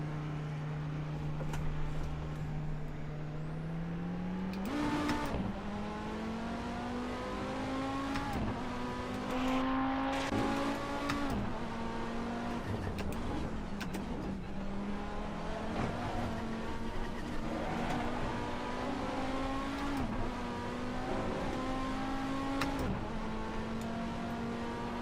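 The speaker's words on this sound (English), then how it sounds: "And ruin the tires by spinning the wheels" A race car's engine in Assetto Corsa roars steadily while its wheels spin on soft tires, the pitch climbing in repeated surges with a few sharp jumps, loud and continuous for the whole stretch with no talking.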